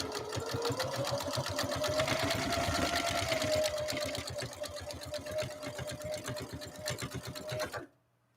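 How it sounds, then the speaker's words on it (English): A Husqvarna Viking sewing machine stitches an EKG pattern, its needle hammering in a fast, steady rhythm over a whirring motor hum for about eight seconds, close and clear, before stopping abruptly. "So our final stitch on tier 1 is going to be our EKG stitch."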